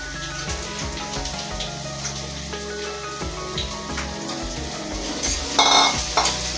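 Chopped onions frying in a pan for an egg curry, a continuous crackling sizzle up close with intermittent stirring scrapes, swelling louder near the end.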